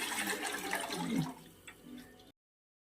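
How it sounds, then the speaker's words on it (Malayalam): Water poured into a cooking pot of beef for biryani with ghee, cloves, cardamom, cinnamon and pepper, a brief close splashing gush that trails off into a few soft trickles and drips. "നമ്മൾ വെള്ളം ഒഴിക്കുവാണ്."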